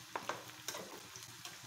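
Whole spices frying in a pan for a Bengali mangsho paturi masala, a soft continuous sizzle with a few sharp crackles and pops near the start, close and fairly quiet, no talk.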